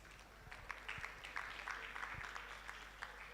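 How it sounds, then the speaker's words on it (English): Faint, distant applause from the audience at a women achievers conference and awards event, a soft continuous patter of clapping with a few sharper claps, under low room hum. "I think we should give ourselves a round of applause"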